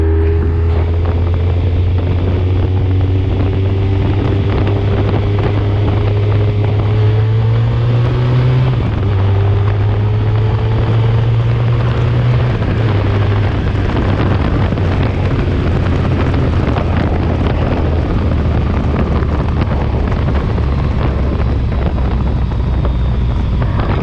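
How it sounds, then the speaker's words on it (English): A Honda ST1300 touring motorcycle out on a ride, its engine holding a steady loud drone that steps in pitch as it shifts gears, with constant wind rushing past and no one talking. "Let's take it for a ride."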